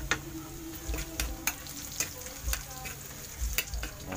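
Onions frying in a pan with ginger and garlic for a Filipino chicken dish, a steady close sizzle with scattered pops and crackles, no talking.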